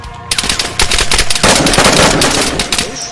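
Rapid automatic gunfire rattles loud and close in the DayZ shooter, a dense burst of shots hammering continuously for about three seconds.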